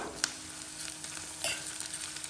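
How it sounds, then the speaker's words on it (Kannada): Chicken and onions fry in a pan for a naati-style chicken fry, giving a faint, steady sizzle broken by a few soft stirring clicks, with no voices. "ಇವಾಗ ಇದು ಸ್ವಲ್ಪ ಹೊತ್ತು ಕ್ಲೀನಾಗಿ ಫ್ರೈ ಆಗಿದೆ."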